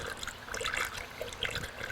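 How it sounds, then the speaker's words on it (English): Water from a jug gurgles and trickles steadily into the radiator of an Acura Vigor, a continuous close pouring sound with bubbling splashes. "And then I'm going to add a jug of water."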